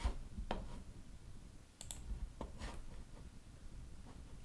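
A computer mouse clicking a few times, with sharp, separate clicks scattered over quiet room noise, close and with no voice.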